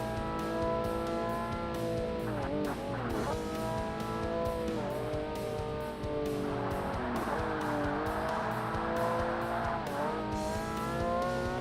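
A race car in Forza Motorsport on the original Xbox, its engine whining steadily through gear changes and pitch sweeps while cornering, with a stretch of tire squeal, continuous and loud, with no talking.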